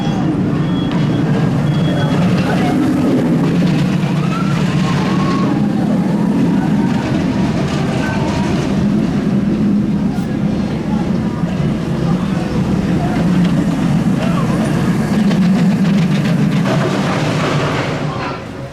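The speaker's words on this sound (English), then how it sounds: "Let's go and have another ride on Shockwave." Shockwave roller coaster ride at Drayton Manor, a loud, continuous rumbling roar of the train on the track that lasts throughout, with voices mixed into the noise.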